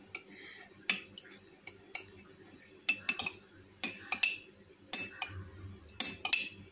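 Spoon clinking and scraping against a bowl while mixing a cornflour mixture for chocolate sauce, a series of sharp metallic taps in an irregular rhythm, close and clear, with quiet stirring between.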